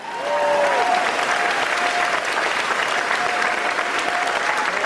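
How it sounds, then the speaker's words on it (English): A Friday-night book-event audience at a Stephen King talk claps for itself, a dense, steady wall of applause filling the room at full loudness throughout, with a faint high tone drifting over it. "you guys really, at some point, have got to give yourselves a hand."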